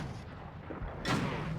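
A T-22 Medium tank gun firing in the game WoT Blitz, with one loud booming shot about midway that rumbles and decays over continuous game engine noise.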